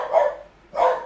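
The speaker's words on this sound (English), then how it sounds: "Apologies, that's my dog." A dog indoors gives two short, loud barks about half a second apart, close by, with no talk over them.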